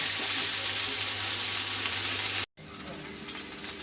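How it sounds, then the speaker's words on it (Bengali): Chunks of taro (kochu) sizzle and fry steadily in a hot pan while being stirred, a dense continuous crackle that cuts off briefly, then resumes with occasional scraping. "তো চলো কচুটা কষিয়ে নিই।"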